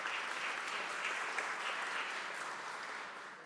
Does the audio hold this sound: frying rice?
no